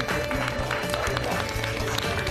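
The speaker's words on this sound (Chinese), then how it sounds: "都给自己鼓鼓掌吧。" A small group of contestants at a debate in a legal reality show break into brief, steady clapping, a dense patter of hands lasting a couple of seconds.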